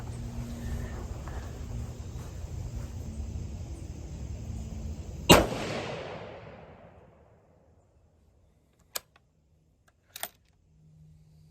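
A Tikka T3 rifle in .243 Winchester fires a 95-grain bullet, one sharp, loud report that decays over a couple of seconds, followed by a few faint clicks in near-quiet.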